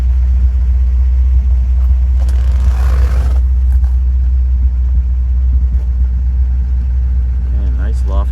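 A 1957 Ford Fairlane 500 hardtop with a 312 T-Bird V8 runs in a steady, loud, close-up rumble, a deep continuous idle with a brief rise in hiss partway through.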